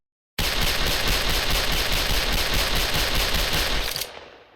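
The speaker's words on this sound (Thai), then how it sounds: "ว่าเสียงปืนออกได้อย่างต่อ เนื่อง และไม่มีติดขัดแต่อย่างใดเลยนะครับ" Rapid, continuous automatic gunfire from a Double Luger pistol in a video game (Special Force), loud and unbroken for about four seconds before cutting off sharply, with no voices.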